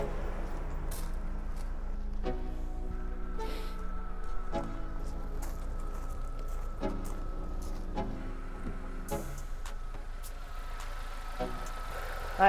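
A BMW Z3 with a 1.8 engine idles with slight misfires, a steady low mid-pitched hum broken by faint irregular stumbles. The engine is close but quiet, with no talking over it.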